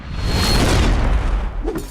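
A single cartoon gunshot, a loud deep boom that fills the whole moment and rumbles on without pause, with a faint voice sound near the end.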